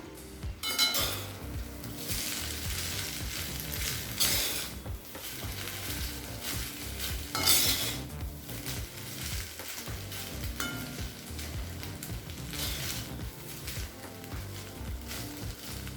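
Egg pulao with rice and coriander is stirred and mixed in a pan, a spatula scraping and clinking against the metal over a steady background sizzle, with bursts of louder scraping throughout and no talk.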